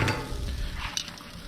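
Pizza dough laid oiled side down on a grill over hot charcoal gives a steady close sizzle with faint crackle, lasting the whole short moment with no talk.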